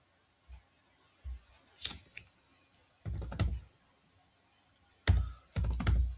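Someone typing on a computer keyboard while creating a user in Oracle Fusion, giving short bursts of key clicks separated by pauses, close and clear with no talk.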